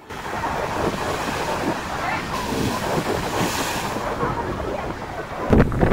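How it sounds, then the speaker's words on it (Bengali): Rough sea waves crash continuously on Digha beach under a cloudy sky with light rain, a steady loud surf roar mixed with wind noise on the microphone, and a heavier thump near the end. "আর তার মাঝেই দেখা মিলল উত্তাল ঢেউয়ের।"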